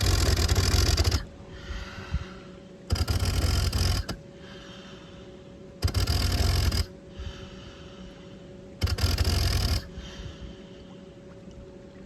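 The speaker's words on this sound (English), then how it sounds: "you can hear the motor only kicking on to push air down the hose when I am breathing in" A BLU3 Nemo dive compressor motor kicking on in four loud, roughly one-second whirring bursts spaced a few seconds apart, each timed with an inhalation, with quieter breathing and bubbling between bursts.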